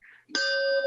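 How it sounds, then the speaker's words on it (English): A bell dings once to open an online meeting, one clear sustained ring after a brief soft tone, close and loud, ringing steadily to the end. "My bell."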